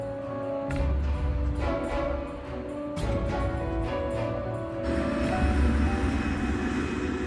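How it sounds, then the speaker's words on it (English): A KLM jumbo jet taxiing on a fog-covered runway, a continuous roaring engine drone with a steady whine, rising and falling slightly in loudness, heard alone without talk. "The KLM is now back on the runway."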